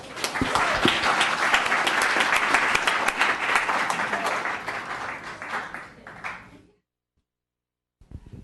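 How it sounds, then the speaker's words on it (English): Audience applause at a town council meeting, a steady crowd of clapping that builds, holds for several seconds, then fades to silence before a few stray claps. "Give him a round of applause."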